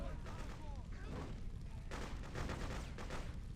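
Gunfire in the video game Freedom Fighters during a Brooklyn hotel mission, dense continuous rattling shots and booms under a busy mix, with faint speech-like sounds.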